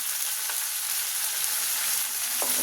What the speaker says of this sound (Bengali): পেস্টটা আমি দিচ্ছি। এটা একটু ভালো করে ভুনে নেই।